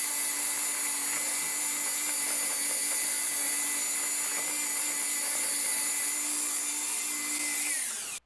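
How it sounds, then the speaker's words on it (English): A Dremel rotary tool grinds PVC pipe in a continuous high-pitched whine for about eight seconds, close and loud, then abruptly stops. "so I'm going to switch back to the Dremel tool"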